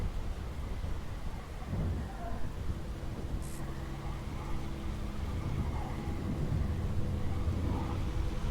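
Thunder from a lightning strike rumbles low and sustained in the video game WILL: Follow The Light, a deep rolling boom that lasts throughout amid dark ambient game noise.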